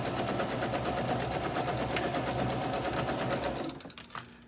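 A sewing machine stitches a quilt block, running steadily in a fast, even rhythm for nearly four seconds before winding down and stopping, close and loud with no talking.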